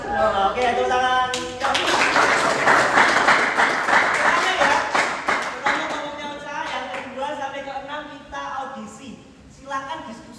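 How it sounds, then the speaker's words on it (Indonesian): A school class claps hands together during a traditional dance lesson, a loud, rhythmic burst of clapping that starts after a moment, with voices and talk around it before it fades. "Oke, tepuk tangan."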